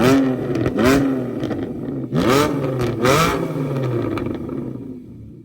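A 2014 Audi RS5 with bad fuel injectors, heard from outside as it revs up loud and raspy in several sharp bursts, each climbing and then falling back toward idle.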